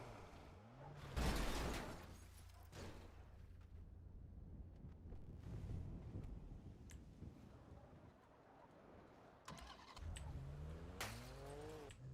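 A BMW M5 driving in a GTA roleplay game, engine and road noise running steadily through a wind-like wash, with a louder surge early on and another near the end.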